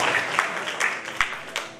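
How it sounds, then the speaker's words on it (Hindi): Applause from the audience at a stage performance, a steady patter of many hands clapping at moderate volume with a few sharper individual claps standing out. "एक जोरदार तालियां आप तमाम लोगों के लिए।"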